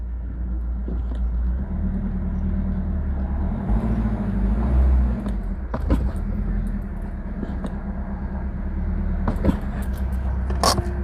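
A BMW Z3 roadster idles and creeps slowly up Rhino Ramps with a steady low engine rumble, punctuated by a few clunks and creaks from the ramps as the car climbs.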